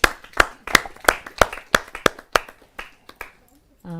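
An audience at a Hindi poetry open-mic stage claps in a steady, evenly spaced rhythm to welcome a poet, about a dozen crisp claps slowing and thinning out before a brief voice at the end.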